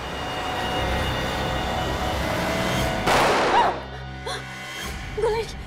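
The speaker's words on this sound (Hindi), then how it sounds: "एक ही गोली की आवाज सुन के ये तो सुधर गई" A single loud gunshot cracks sharply over a low background hum, followed by brief raised voices, in a Hindi TV crime drama.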